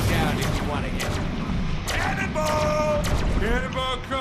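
Gunfire rattles through a Deadpool video game, loud sustained shots and booms layered with game effects and speech over a dense, continuous battle din.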